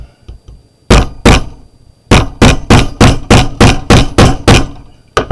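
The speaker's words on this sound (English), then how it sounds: "And grab a hammer." A metal hammer strikes a rivet setter into a vintage-style junk journal, two sharp blows followed by a steady run of about ten loud, evenly spaced thuds close by, each with a brief hard knock.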